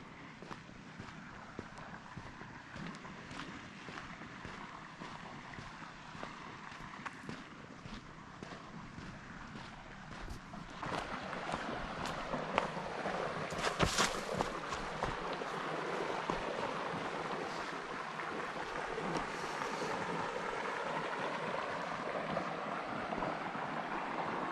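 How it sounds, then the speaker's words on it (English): Water flows along a shaded river at Villanueva State Park, New Mexico, making a steady broadband rush with no speech. The rush is moderate at first and swells louder and closer about halfway through. "Sound of water."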